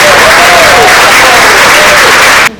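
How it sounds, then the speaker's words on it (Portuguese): A lecture audience gives a warm round of applause to welcome the speaker at a talk on the democratic rule of law: dense, loud, steady clapping that fills the room for about two and a half seconds, then cuts off abruptly. "Pedir uma calorosa salva de palmas para ele"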